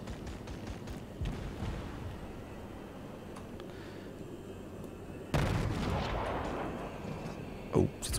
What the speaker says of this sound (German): Das sind unsere Anti-Aircraft-Kanonen,